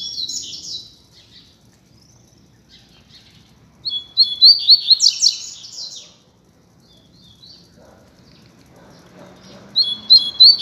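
A pair of double-collared seedeaters (coleiro) singing on a street, with bright chirping bursts near the start, a loud stretch of song in the middle, and more song at the end, separated by quieter gaps.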